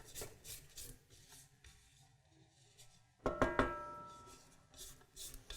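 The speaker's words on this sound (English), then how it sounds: "Let me scrape this down real quick." Spatula scraping brownie batter down the sides of a mixing bowl, a soft rub at first, then a louder burst of scraping and knocking strokes near the end, close and alone.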